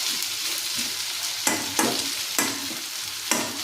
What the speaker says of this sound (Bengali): পেঁয়াজ তেলের মধ্যে আর শুকনো লঙ্কা। এবার আলুটা আমি ঢেলে দিলাম।